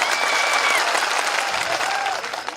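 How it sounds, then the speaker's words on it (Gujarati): Applause from a large crowd at an Aam Aadmi Party mass public rally in Gujarat, dense and sustained clapping that fades slightly at the end, with a voice heard faintly over it. "બધા જ માટે એકવાર આપણે જોરદાર તાળીઓ પાડી લઈશું"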